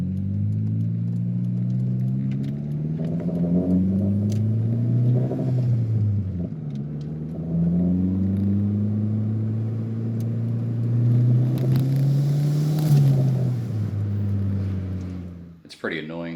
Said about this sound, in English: I've got a little rattle in the exhaust